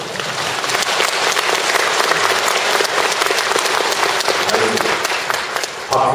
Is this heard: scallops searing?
no